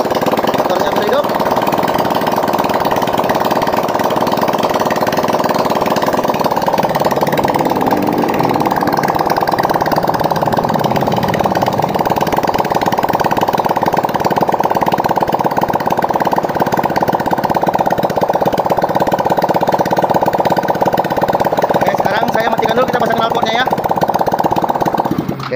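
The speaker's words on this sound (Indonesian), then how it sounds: "Oke, motornya sudah hidup." A Yamaha Mio scooter engine runs steadily after a block and piston repair, loud and close with a constant buzzing drone that holds throughout.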